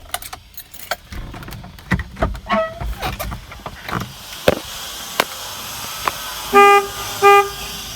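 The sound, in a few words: dual trumpet car horn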